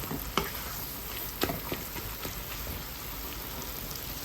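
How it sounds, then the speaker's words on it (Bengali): Spices frying in a pan with a splash of water while being stirred, giving a steady soft sizzle with occasional scrape and tap sounds, close and low in level. "আর এটারে শুধু এখন ভাজা ভাজা করতে হবে, এভাবে নেড়েছে"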